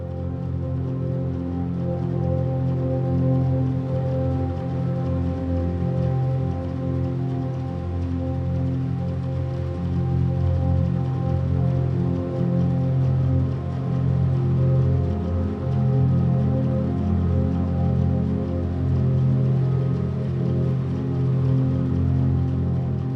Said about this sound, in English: a duet for keyboard and what sounds like rain